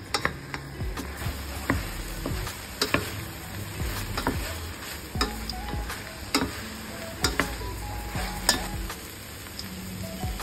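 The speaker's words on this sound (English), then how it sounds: "Next, we add the veggies like the broccoli and the carrots. We stir fry for a few minutes." Broccoli and carrots stir-frying for chow mein, with a steady sizzle under repeated knocks of a utensil against the pan, all close and rhythmic, with no voices.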